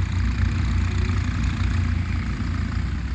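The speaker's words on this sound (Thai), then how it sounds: "มีคนมาขับรถไถแล้วครับ" A tractor engine runs steadily nearby at a farm job site, a loud, continuous low rumble with an even idle-like tone throughout and no talk over it.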